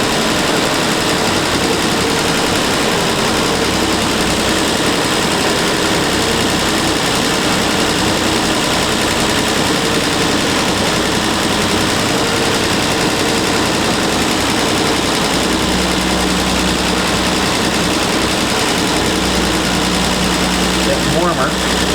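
A car engine fitted with twin Zenith-Stromberg carburetors idles loudly and steadily for the whole stretch, a continuous low rumble with an even mechanical hum and no change in pace.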